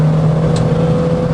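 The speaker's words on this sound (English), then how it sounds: "just love that raspy 4-cylinder" A Peugeot 309 GTI's raspy four-cylinder engine pulling under acceleration, a steady, loud drone heard from inside the car on a damp road.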